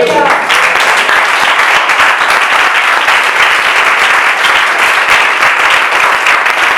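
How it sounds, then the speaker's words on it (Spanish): A church congregation applauds loudly and steadily, a dense, continuous wash of clapping from many people that fills the room and holds at full strength from start to finish. "Dale un aplauso al Señor por eso."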